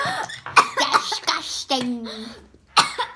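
A woman coughing in bursts mixed with laughter, close and loud, with a short spoken word between the coughs and a laughing voice around them.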